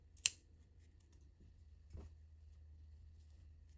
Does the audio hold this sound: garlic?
no